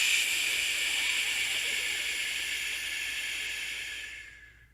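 A man demonstrates diaphragmatic breathing with one long, steady, hissing breath close to the mic that slowly fades out at the end, alone with no talk.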